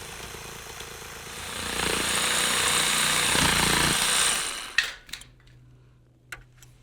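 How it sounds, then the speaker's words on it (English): Jigsaw cutting a circular cutout for a gas fireplace flue, a loud sustained buzzing cut lasting several seconds close by, then stopping with a few clunks and knocks of handling. "I bore a 1/2-inch hole on the edge of the circle, insert the blade of a jigsaw, and make the cutout."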